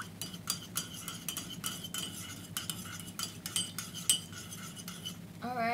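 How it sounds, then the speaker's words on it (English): A spoon stirs Thai tea with condensed milk in a cup, with quick repeated metallic clinks and scraping against the sides in an uneven rhythm, close and fairly quiet, with no talking. "And stir it."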